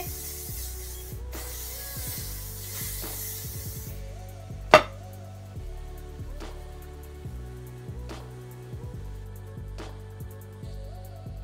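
A short hiss of an aerosol spray bursts near the start, followed by a sharp click and quiet background music.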